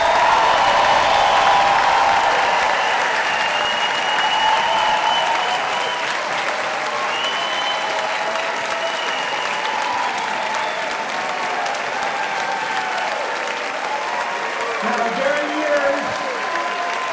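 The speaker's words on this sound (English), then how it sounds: "Please join me in applauding the graduates of 2023" A large commencement audience applauds the 2023 graduates, loud sustained clapping that gradually thins and softens toward the end, with faint crowd murmur underneath.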